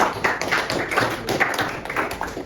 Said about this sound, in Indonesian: Ya, tepuk tangan untuk Ahnaf.